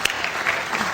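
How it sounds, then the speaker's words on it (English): Audience applause at a retailer of the year awards evening in St Albans, a dense steady patter of many hands clapping close by for about a second, with no voices over it. "Oh, a round of applause."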